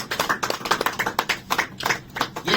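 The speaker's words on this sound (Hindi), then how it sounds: "एक बार जोरदार ताली बजाइए प्रियंका के लिए" An audience at a concert in JLN Stadium applauds steadily, a dense, loud wash of many hands clapping that continues without a break.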